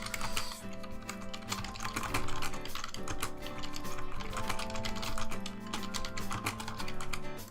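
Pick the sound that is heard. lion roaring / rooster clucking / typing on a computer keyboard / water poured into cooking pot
typing on a computer keyboard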